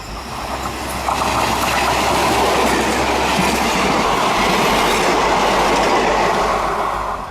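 An Amritsar-Jalandhar DMU express train rolls past close by, its steady loud rumble and rhythmic wheel clatter swelling after the first second and holding strong before easing slightly at the end.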